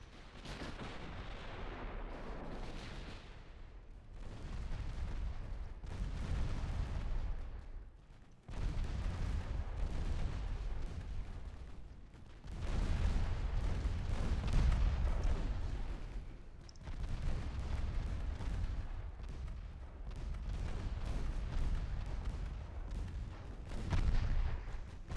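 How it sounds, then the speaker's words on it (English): Naval gunfire from battleships in Ultimate Admiral: Dreadnoughts, heavy repeated booming salvos rolling one into the next with rumbling low-end reverberation, loud and continuous, no talk over it. "Battleships continuing to fire."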